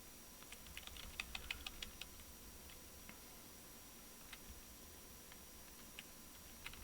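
Computer keyboard typing comes in irregular bursts of light clicking keystrokes, denser at first and then sparse, faint and close against a quiet background with no talk.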